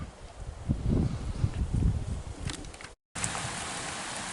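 Steady hiss of rain falling outdoors with gusty wind and low rumbles, briefly cutting out before resuming as an even, broadband patter.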